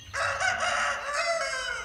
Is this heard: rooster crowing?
yes